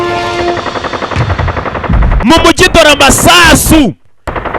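Machine-gun bursts in a dubbed action film, rapid cracking fire packed into a couple of seconds under loud, excited voices that talk over it before cutting off sharply.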